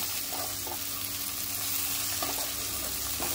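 Onion and tomato masala frying in a pan for a prawn masala, giving a steady close sizzle with faint stirring scrapes throughout.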